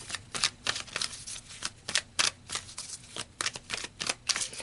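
Tarot cards shuffled by hand for a Sagittarius reading, a steady run of crisp riffling bursts and soft slaps repeating every fraction of a second at close range, with no talking over them.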